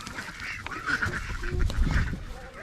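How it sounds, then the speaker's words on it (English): Ducks quack and honk repeatedly from close by as they are let out of an enclosure, their calls overlapping in a busy, continuous flock chatter. "I hear you, ducky babies."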